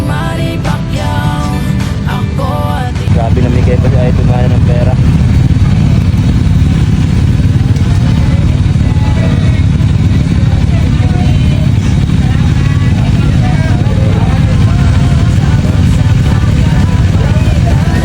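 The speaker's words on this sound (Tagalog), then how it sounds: "sobrang lakas ng mga motor na to" Several loud motorcycles in a Philippine convoy or motorcade, a steady dense engine roar that swells after the first few seconds and continues without a break, with some voices underneath.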